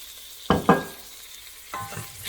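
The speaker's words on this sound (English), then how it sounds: "Stir the garlic." Garlic sautéing in olive oil in a pan for homemade Italian tomato sauce, with two close scraping stir strokes and then another over a faint sizzle.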